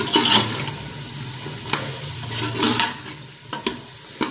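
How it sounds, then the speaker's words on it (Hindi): Red beans frying in a pot, a steady sizzle with a few louder bursts of stirring and clatter, close by, with no talk. "हम डाल देते हैं सुरख लोबिया, रेड बीन। इनको भून के और डालेंगे पानी।"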